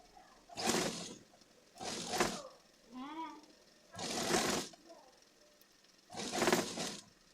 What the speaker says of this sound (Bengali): এবার সোজা সেলাইটা করে নেব সোজা সেলাই দিয়ে নিচ্ছি